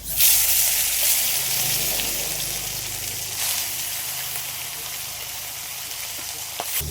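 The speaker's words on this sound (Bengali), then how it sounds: "তেলটা কিন্তু ভালোই গরম হয়ে গেছে, আর তেল দিয়ে ধোয়া উঠছে। মাছ এবার দিয়ে দিচ্ছি।" Parshe fish rubbed with salt goes into smoking-hot oil and bursts into a loud, close sizzle. The spitting hiss then slowly eases to a steady frying crackle.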